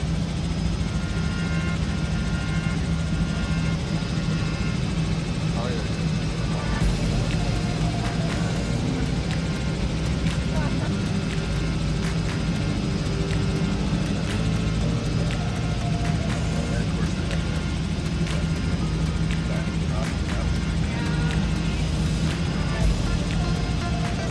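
A tour helicopter flying over Orlando toward Disney World gives a steady, close rotor and engine drone throughout, with a voice talking intermittently over the cabin noise.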